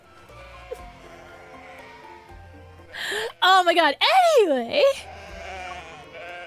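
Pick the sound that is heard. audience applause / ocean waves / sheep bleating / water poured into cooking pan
sheep bleating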